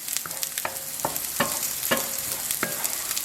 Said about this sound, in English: we can stir in a little more milk